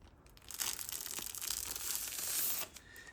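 Protective plastic film is peeled off the top of a Roborock Qrevo Curv 2 Pro robot vacuum, heard close up as a continuous crackling, tearing rasp for about two seconds, then a few faint crinkles.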